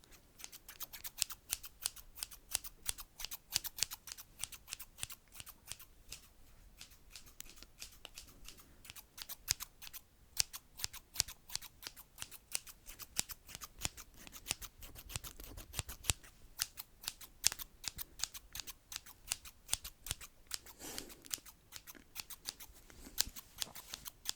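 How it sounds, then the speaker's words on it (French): Scissors snip rapidly and continuously in close-up, a dense run of crisp metallic cuts with no pauses, recorded intimately for ASMR with no talking. "Je vais faire du fast avec le ciseau maintenant."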